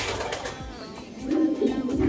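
Opal-coloured pure-bred racing pigeons coo softly in a loft, a low murmuring call rising briefly over nearby rustle.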